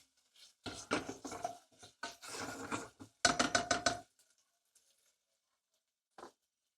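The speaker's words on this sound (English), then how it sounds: "we went ahead and just stirred that one more time" Red chili stirred in a pot, a series of close scraping and clinking strokes of a utensil against the metal, coming in quick rhythmic bursts with short pauses, then a single faint knock after silence.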